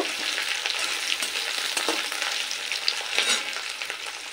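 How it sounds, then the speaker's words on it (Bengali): Chopped onion and green chilli fry in hot oil for a small fish curry, giving a steady, close, dense sizzle with a few brief stirring scrapes and no talking. "তো পেঁয়াজটা একটু লাল করেই ভেজে নেব।"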